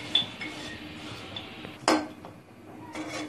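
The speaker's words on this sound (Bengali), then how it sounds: "তাই আমি দেখুন সবসময় নাড়ছি শুটকিটাকে" Dried Loitta fish being stirred in a pan over medium heat, with a soft background hiss and a few metallic clinks and scrapes of a utensil, one sharper knock near the middle.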